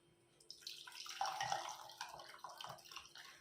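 Drumstick leaf soup is strained after coming out of a pressure cooker, giving a steady pour and splash of liquid with trickling and dripping through a strainer, close and moderately loud, with no talking.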